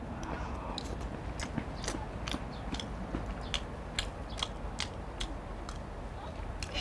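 Close, wet chewing of a Korean military ration meatball rice that has set firm like hardened rice cake, with repeated soft crunchy bites and tongue sounds continuing steadily, no talking.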